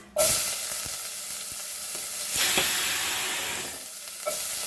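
Onion sautéing in hot ghee in a pan for cabbage rolls, a loud sizzle that starts suddenly and holds steady, with a few stirring scrapes and no talking.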